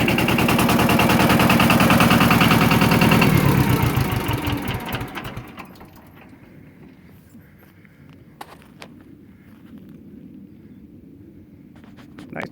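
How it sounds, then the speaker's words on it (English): A used compact tractor fitted with a backhoe runs its engine, loud and steady at first, then dropping to a quieter, lower idle rumble with a few faint clicks. "Nice tractor overall, especially with that backhoe on it."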